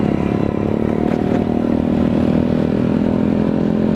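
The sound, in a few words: motorcycle engine suddenly revving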